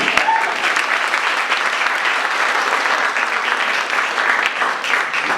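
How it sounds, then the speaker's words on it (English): Audience applause at an architecture lecture for guest Michael Maltzan, a dense, steady wash of many hands clapping at close range that fills the whole stretch without a break. "Okay, and we applaud you."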